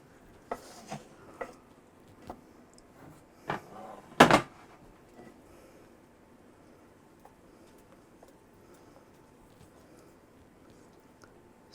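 A spoon stirs vanilla into Coca-Cola cake batter in a mixing bowl, giving a few scattered scrapes and clinks, one louder knock, then near silence.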